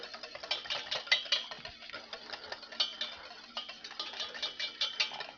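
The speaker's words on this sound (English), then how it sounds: "That's it. Mix that in." Whisking an ingredient into homemade hollandaise sauce in a bowl, a steady run of light metallic clicks and taps from the utensil against the bowl, close and moderately quiet with no talking.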